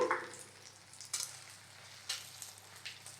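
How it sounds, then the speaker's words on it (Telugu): Fenugreek seeds dropped into hot oil in a pan for an egg and potato curry, giving a soft, low-level sizzle that flares in brief crackling bursts at intervals, with no talking. "ఆయిల్ మగ్గిన తర్వాత సో దీనిలోకి మేతి వేసేస్తున్నాను"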